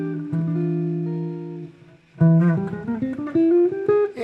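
Guitar plays a jazz melodic minor scale phrase for a solo lesson, opening with a few sustained notes, a brief pause, then a quicker run of single notes climbing upward, clear and close.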